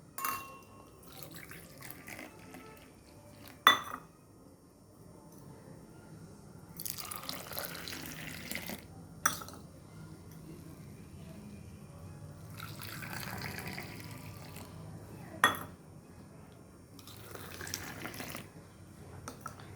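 Sweetened tea is poured back and forth between a glass and another vessel to cool it, making several separate bursts of splashing liquid with quiet gaps and a few sharp clinks between them.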